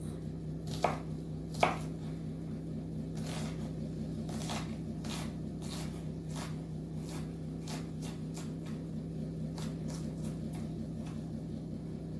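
A knife chops onion finely on a cutting board for an Armenian grilled eggplant and pepper salad, giving a long run of steady, close taps with two sharper knocks near the start over a constant background hum.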